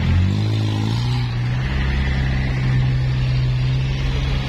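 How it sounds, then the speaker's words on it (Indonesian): An old Arya Prima bus gives a loud, steady engine rumble up close, with a deep droning tone that holds throughout without a break. "Ini ada bis jadulnya Arya Prima kawan-kawan."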